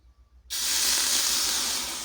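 After a moment of quiet, a sudden loud, steady hiss of hot metal sizzling begins close by, during the making of a large toothed pulley, and continues without a break.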